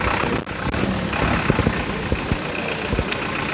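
Tractor engine running on a farm in Greece, a steady low diesel rumble with a few knocks and clatters over it, close and fairly loud.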